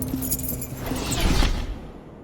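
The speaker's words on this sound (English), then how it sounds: "Are those the car keys?" Car keys jangle in a scene from the film Thor: The Dark World, a short bright metallic rattle that swells and fades over about two seconds, close and fairly loud, with no talk.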